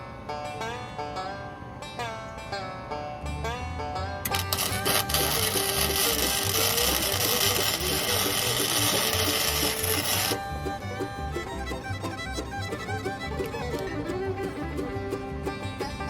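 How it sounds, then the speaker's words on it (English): A Harbor Freight Hercules grinder runs with a steady whining hum, growing louder and harsher in the middle stretch before settling back to a smoother drone. "This Harbor Freight Hercules is the best grinder I got."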